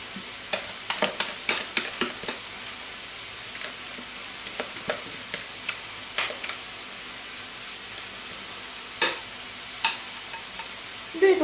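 Yogurt cake batter for a peach cake is stirred in a bowl with a spoon. Irregular wet scrapes and taps carry on throughout at close range, with no voice.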